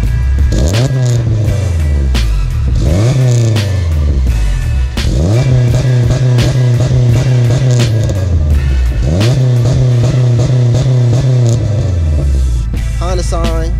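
Honda Integra with a loud aftermarket exhaust, revved repeatedly in short bursts that climb and drop back, each with a raspy, buzzy tone, close and loud with a steady rumbling idle between revs.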